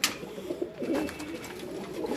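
Breeder pigeons in a Multan loft coo softly with low, rolling calls, close and fairly quiet, with faint background noise and no talk.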